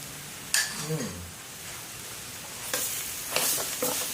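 Chili paste stir-fries in a wok for a chicken dish, giving a steady close sizzle broken by several sharp bursts of scraping and stirring at irregular intervals.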